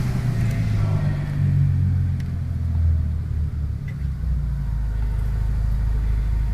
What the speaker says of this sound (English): Melodic exhaust note, very smooth engine.